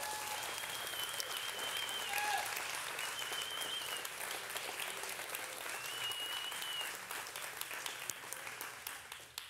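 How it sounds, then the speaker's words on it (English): A church congregation claps together in sustained, dense applause, loud and steady for the whole stretch, with faint voices and a few brief tones mixed underneath. "Go ahead and give the Lord a hand clap"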